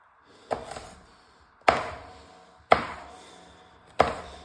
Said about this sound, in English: you're going to just slice it basically